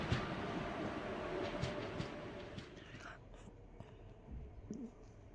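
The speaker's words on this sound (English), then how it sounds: "I just realized it's the same train as this train." A train passes in a 3D Indian railway crossing video game, a steady rumbling roar with rail clatter that gradually fades, with faint background sounds.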